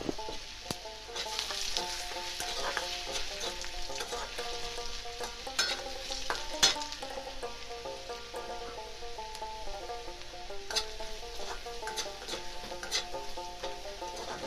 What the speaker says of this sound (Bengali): এই আলুগুলি হলো মুই অল্প ভাজা ভাজা করে নিই।